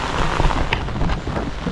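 Heavy, unceasing rain falls around a flooded fishpond, a dense steady wash of noise with some wind buffeting the microphone throughout.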